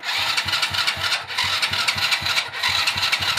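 A choked engine fitted with a worn NGK spark plug is cranked repeatedly, rhythmic starter pulses churning without catching into a steady run, close and loud.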